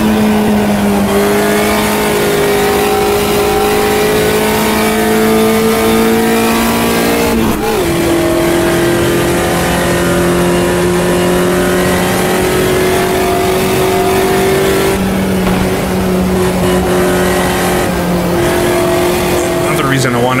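Race car engines in the Automobilista 2 sim game drone loudly and steadily through an enduro, with pitch shifts at gear changes every few seconds and occasional tire noise. A voice talks over part of it.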